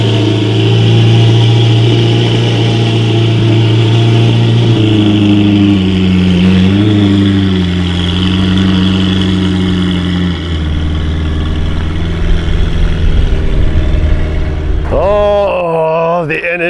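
A Novitec-tuned twin-turbo V8 supercar engine idles with a deep, loud, steady rumble and swells through throttle blips, with a voice briefly heard near the end.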